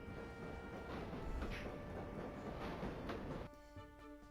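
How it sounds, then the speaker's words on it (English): A video game train from The Shivah rattles and clatters steadily at a loud, even level, with tonal hum lines running through, then the rumble drops away abruptly near the end, leaving a quieter hum. "The train clattered off into the flickering distance, and Joe DeMarco remained unconscious"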